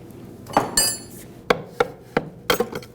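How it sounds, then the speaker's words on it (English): Sharp metal hammer taps on a tool wedged into a 2006-2009 Audi S4 bellow boot, about six distinct knocks, the first with a ringing clink, then spaced single taps and a quick double at the end, close and clear with no talking. "even tapping it with a hammer"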